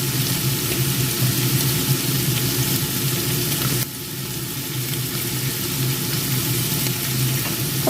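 Carrots stir-fried in a pan for a vegetable, minced pork and glass noodle spring roll filling: a loud, continuous sizzle with stirring scrapes. The level dips slightly halfway through, then the sizzle carries on.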